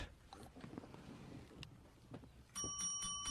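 A small bell rings loud and close several times in quick succession, its bright tone cutting in after a stretch of muffled rustling and background noise.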